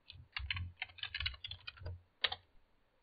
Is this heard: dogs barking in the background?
no